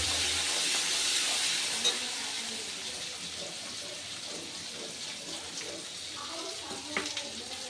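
Spice paste with turmeric powder stirred and fried in hot oil in a pan for a spicy sea-fish curry, giving a steady close sizzle with faint scraping throughout, no talking.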